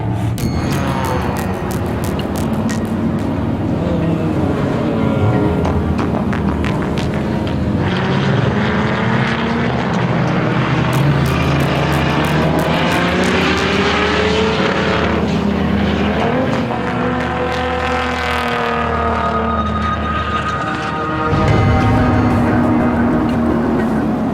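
Race car at the 24 Hours of LeMons, a Rotsun build, its engine droning loudly and continuously from onboard as it coasts through a turn, pitch sweeping down and up with throttle changes.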